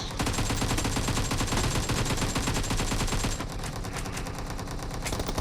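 Rapid automatic gunfire from PUBG Mobile rattles continuously and loudly, thinning slightly in the last couple of seconds but carrying on without pause.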